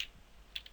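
A few light clicks from computer keyboard keys being tapped while code is entered, faint and sparse, with no speech over them.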